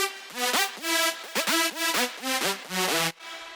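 SaberZ Lead 5, a big room synth lead layered into an EDM drop in FL Studio, plays loud rhythmic stabs with pitch-swooping notes in a bouncy pattern, then cuts off abruptly near the end.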